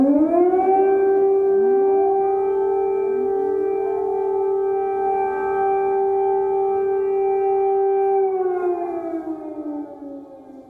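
A civil defense air raid siren wails through the streets of Kyiv, a loud sustained rising tone that holds steady for several seconds before slowly winding down, with no voices present.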